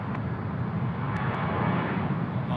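Qantas flight 594 jet aircraft departing Sydney Airport for the Gold Coast, a continuous low engine rumble under a broad roar, fairly close and steady, with a few faint clicks.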